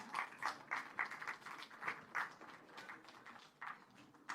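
Scattered clapping from a convocation audience honouring graduates, a quiet patter of claps with irregular bursts that swell and fade, fairly distant and thin throughout.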